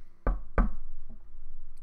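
Three knocks on a surface, two loud close raps followed by a softer third, over a steady low hum, heard during a parent-training exercise with no talk.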